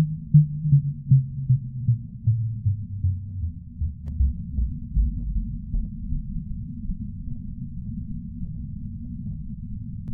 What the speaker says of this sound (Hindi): इस आवाज को फास्ट रेडियो बस्ट का नाम दिया गया